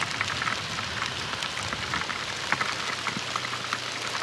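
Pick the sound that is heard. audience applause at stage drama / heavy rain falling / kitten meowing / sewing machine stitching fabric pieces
heavy rain falling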